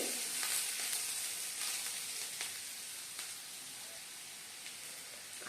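Onion and cashews sauté in a pan for a dhaba-style cashew curry, producing a steady sizzle that slowly fades, punctuated by several light stirring scrapes, with no speech.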